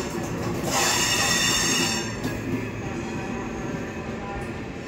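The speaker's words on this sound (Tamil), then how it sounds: "இந்த ட்ரெயின் தான் காய்ச்சி இப்போ வந்துட்டுருக்கு" A MEMU special train rolls into a station platform on the line toward Bangalore airport, with a loud rumbling approach and a sharp wheel squeal near the start that eases into a steady, nearby rolling drone.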